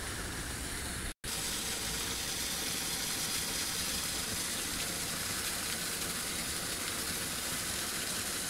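Canal water leaking and flowing makes a steady, broad rushing hiss that fills the scene with little variation, broken only by a brief dropout near the start, in a village near Balakot, Mansehra district.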